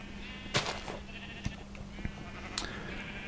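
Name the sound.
sheep bleating while being sheared in video game Minecraft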